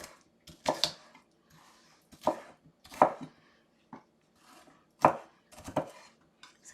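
Sharp knife chops vegetables for sofrito on a cutting board in irregular strokes, close and distinct, with faint rustling between the cuts.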